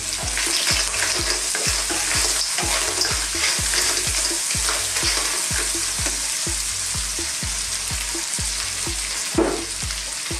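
Shrimp and clams frying in a pan for a Thai seafood dish, with a constant loud sizzle and a steady, even rhythm of stirring knocks against the pan. Nobody speaks.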